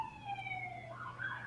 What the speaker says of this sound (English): Look, you hear the sirens outside now.